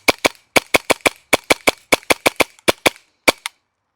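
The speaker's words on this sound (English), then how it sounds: "Seems to be able to handle and feed as fast as we fire down shots down range" Tapp Airsoft KC02 hybrid HPA kit running at 120 PSI fires BBs downrange in a quick run of about sixteen sharp, loud cracks, mostly evenly spaced, with a brief pause before two final shots.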